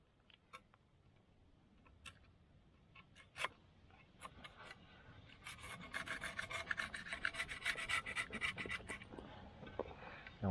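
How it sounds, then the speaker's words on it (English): A razor scraper rasps old gasket material off a differential cover, starting as sparse scratchy strokes and building into steady, dense close-up scraping. "I'm just going to use a razor scraper on this and scrape off all the old crap"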